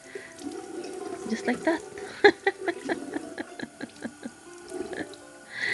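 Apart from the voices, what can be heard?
tap water running while washing face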